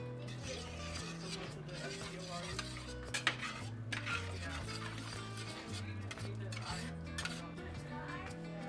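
Cajun shrimp and andouille sausage pasta sauce gets stirred in a pot, steady scraping and clinking of a utensil against metal with light sizzling, under continuous background music and occasional talk.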